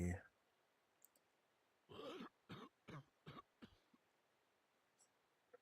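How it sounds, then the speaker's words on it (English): Several short, close coughs and throat-clearing bursts come in a quick irregular series after a brief louder noise at the start, with a few faint clicks in otherwise quiet surroundings. "Stop coughing. That's very rude."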